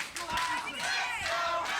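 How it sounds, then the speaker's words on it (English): A wrestling crowd claps and cheers in an arena, a dense wash of applause and shouts heard under a commentator's voice. "As the crowd tries to rally behind Roderick Strong."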